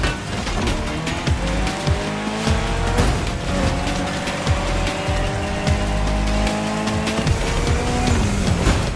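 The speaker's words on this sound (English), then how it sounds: "your new ride, Toji's Mitsubishi Lancer Evo X" Mitsubishi Lancer Evo X racing in The Crew Motorfest video game, a loud, continuous engine roar rising and falling through gear shifts, with tire squeals and skids layered on top.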